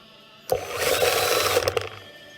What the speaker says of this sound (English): Put that drill bit right in the center, push slowly, and boom, you're cutting yourself a hole in no time